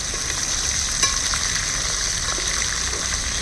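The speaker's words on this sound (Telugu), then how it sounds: "ఈ అల్లం వెల్లుల్లి పేస్ట్ కూడా పచ్చి వాసన పోయే వరకు ఫ్రై చేసుకోవాలి" Ginger garlic paste frying in a pan with mustard seeds, fenugreek and cumin, a loud, close, steady sizzle with crackles and occasional stirring, no voices over it.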